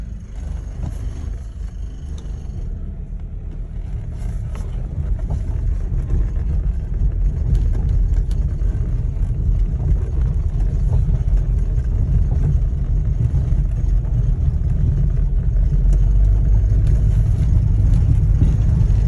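A 1990 Volvo 740 turbo wagon, just revived after five years idle, runs steadily with a low, continuous engine rumble that swells slightly as it drives, with some wind noise.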